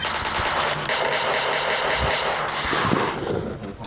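Gunfire in the mobile shooter Free Fire: dense, sustained automatic fire that rattles continuously for about four seconds, loud and close over a busy game-sound background.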